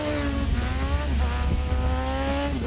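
A Suzuki GSX-R motorcycle on a club-cup racing circuit runs at high revs, its engine note holding steady with slight pitch wobbles, loud and continuous with no talk.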